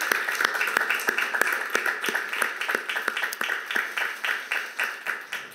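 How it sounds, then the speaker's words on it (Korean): A church congregation claps together during a worship service, a steady rhythmic beat of many hands kept up at an even tempo, moderately loud with a soft reverberant wash behind it. "우리 한 번 더 그분께 박수로 영광을 돌립시다"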